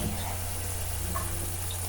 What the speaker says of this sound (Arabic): هزود بس ايه حوالي ربع كوبايه ميه مش كتير